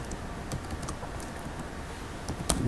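Quiet, steady clicking of a computer keyboard while C++ code is typed, with quick light keystrokes and a few sharper taps near the end, and no voices.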